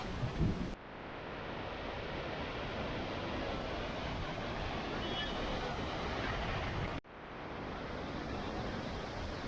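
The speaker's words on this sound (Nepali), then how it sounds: "झर्नाबाट चाहिँ एकदम चिसो पानी आइरहेछ यहाँ" A cold mountain waterfall in Mustang, Nepal gives off a dense, unbroken rushing hiss of falling water that is steady and enveloping, broken by two abrupt cuts.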